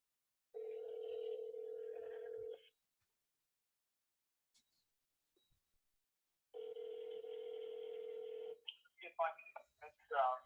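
A telephone dial tone hums steadily for about two seconds, then silence, then the tone returns and gives way to a quick run of touch-tone dialing beeps.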